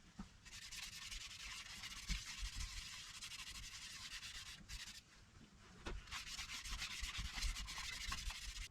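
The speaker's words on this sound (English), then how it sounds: "I'll give it a final sand up now and get some finish on it" Sandpaper rubs steadily over a wooden Christmas star in a final sanding pass, a close, continuous scratchy hiss with a brief pause midway before the strokes resume.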